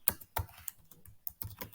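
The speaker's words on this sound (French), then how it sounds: "Il suffit de taper Entrée sur votre clavier." Keys clack on a computer keyboard while a title is typed into Google Drawings, a quick uneven run of close, crisp taps with short pauses between clusters.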